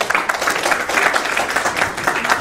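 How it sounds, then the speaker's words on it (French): Sustained audience clapping at a Côte d'Ivoire political gathering, dense and steady throughout without a pause. "Applaudissez-les encore."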